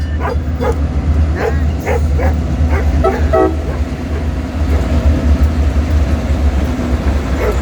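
A dog barks several times in quick succession, close by, over the loud, steady low rumble of a passing freight train.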